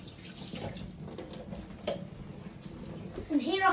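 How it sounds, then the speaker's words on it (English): A kitchen tap runs steadily while hands are washed during spaghetti Bolognese prep, a continuous close hiss and splash with a louder gush near the end, and a voice talking over it. "Wash your hands."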